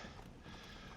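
Horse galloping through deep desert sand in a Napoleonic Wars video game, a brief, steady run of muffled hoofbeats close by, with no speech.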